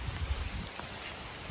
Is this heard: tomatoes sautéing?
no